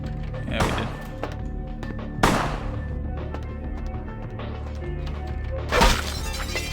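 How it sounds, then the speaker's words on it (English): Glass shattering in Vampire: The Masquerade – Bloodlines, with three sharp crashing breaks spread over the clip, each a bright burst trailing into tinkling debris over a humming game ambience. "We broke the glass"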